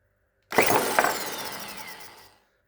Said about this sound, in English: I'm going to put a drill on top of it and then just spin it in the drill